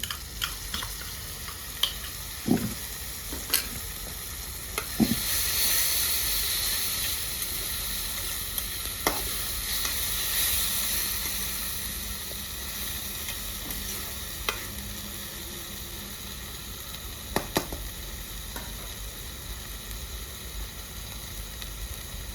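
Ginger garlic paste sizzles steadily in a hot pan for chicken tikka masala, a continuous close frying hiss broken by occasional sharp clinks of a spoon stirring.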